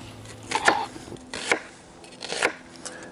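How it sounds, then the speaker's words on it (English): A knife chops a sweet onion in a few sharp, separate cuts, about three clear strikes spaced under a second apart, close and fairly quiet against an outdoor swamp campsite background. "I don't need to cut it diced. I just want it to be chopped."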